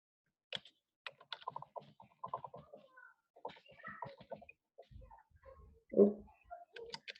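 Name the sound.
typing on a computer keyboard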